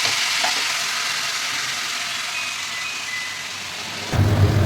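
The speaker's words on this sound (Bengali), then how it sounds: "এবার এই পেস্টটাকে এর মধ্যে দিয়ে দেবো।" Ground spice paste fries in hot oil for matar paneer, a dense, constant hiss close up, ending in a louder rumbling burst of sizzle.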